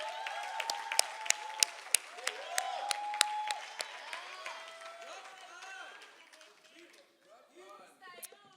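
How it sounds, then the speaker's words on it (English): Applause from a poetry festival audience with some sharp claps standing out, mixed with cheering and crowd voices; it gradually fades and gives way to talking. "let's give a warm round of applause for Lulega Mhlanzi."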